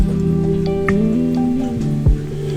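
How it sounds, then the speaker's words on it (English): Caridina shrimp are poured with water into an aquarium tank, making a soft, rain-like patter and light splashing close by. A steady hum and tonal drone continue underneath, and no one speaks. "Let's just release the shrimp now into this tank."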